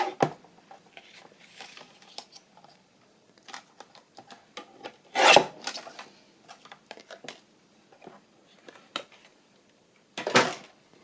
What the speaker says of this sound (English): I'm just going to trim that off a bit.